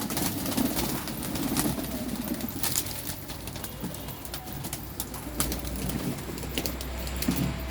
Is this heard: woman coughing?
no